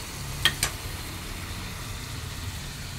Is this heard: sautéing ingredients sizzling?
yes